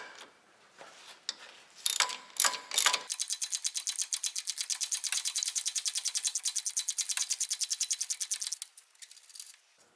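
An air impact wrench spins bolts off the front axle hub of a 1995 Jeep Cherokee XJ, a long rapid hammering burst after a few short ratcheting clicks, close and loud with no talk.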